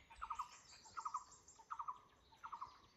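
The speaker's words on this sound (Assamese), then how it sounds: "তাৰপিছত চৰাই চিৰিকটি কান্দি আছে" Birds call in a forest: four short, faint bursts of rapid chirps repeat at an even pace over quiet background noise.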